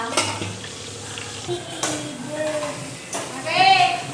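Tomato and onion frying in a pan at home, soft sizzling under stirring and clinks of a utensil against the pan, with voices talking nearby.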